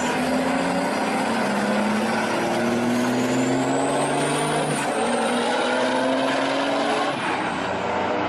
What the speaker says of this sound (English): this unbelievable drag race in which there will be semi-truck versus Corvette